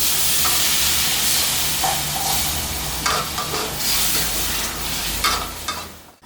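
Water poured into a hot pan for a spicy catfish stir-fry sets off a loud, sustained hissing sizzle with bursts of steam, close and continuous before cutting off abruptly at the end.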